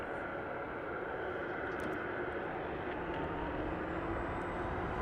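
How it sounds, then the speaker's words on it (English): An American Airlines Airbus A321 jet at Las Vegas Harry Reid International Airport gives a steady, loud, broadband engine roar that holds evenly throughout, with no talk over it. "Up next is going to be American Airlines AAL1808 with service to Phoenix, Arizona, Airbus"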